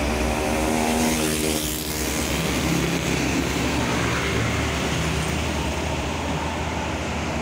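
An Isuzu 285 PS tanker truck drives past on a road with a loud diesel rumble and a whining drone that swells and then fades into continuing traffic noise.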